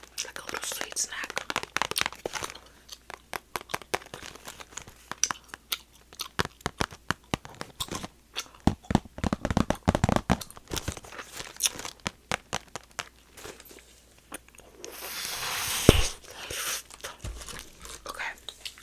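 Crispy chocolate snacks crunch and crackle in close, crisp bursts of chewing, with packaging rustles, a few soft whispered words and a sharper crinkle near the end.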